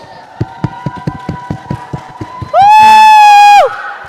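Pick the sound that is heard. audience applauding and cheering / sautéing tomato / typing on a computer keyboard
audience applauding and cheering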